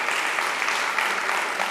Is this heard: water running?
no